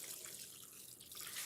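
About a quart of water poured over a tray in a Worm Cafe worm composting bin, a steady, soft splashing rush that runs unbroken from start to finish.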